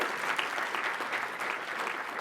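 Steady applause from a convention audience, a dense even patter of many hands clapping at close range, sustained without pause and with no talk over it.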